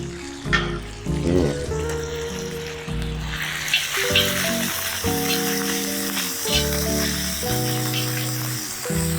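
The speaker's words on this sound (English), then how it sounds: "So my first thing going in is bacon." Bacon sizzles and crackles in a hot pan at the start of a fried rice dish, a steady loud frying hiss running throughout beneath prominent background music.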